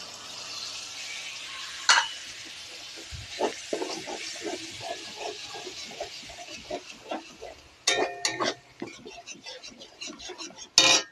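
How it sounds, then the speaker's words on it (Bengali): Gravy with soy and tomato sauce being stirred and fried in a pan, with repeated close clinks and scrapes of a metal utensil over a soft sizzle, growing busier toward the end. "এবার গ্রেভিটা লাল লাল করে ভাজা হবে"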